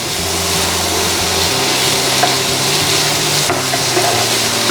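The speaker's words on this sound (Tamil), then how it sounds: "இந்த துருவி வச்ச எல்லோ பம்கினை சேர்த்துக்கலாம். நல்ல சாஃப்டாக குக் ஆகிற வரைக்கும் வதக்கிக்கலாம்." Grated yellow pumpkin sautéing in ghee in a pan, a steady close sizzle with soft stirring scrapes running throughout, no voices.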